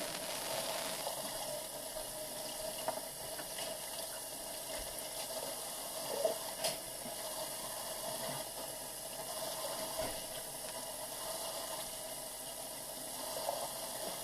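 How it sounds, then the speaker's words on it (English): Water runs steadily from a tap while a brush is rinsed clean of bar soap and squeezed out, a continuous moderate splashing flow with small irregular spatters throughout. "gently squeeze out until the water runs clear"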